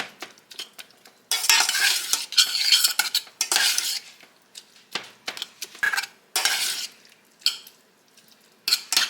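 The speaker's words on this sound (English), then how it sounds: "Just kind of want to mash some of those cranberries up." Cranberries are mashed in a pot with orange juice and brown sugar, irregular bursts of wet squishing and utensil scraping against the pan, separated by short quiet gaps, close and moderately loud.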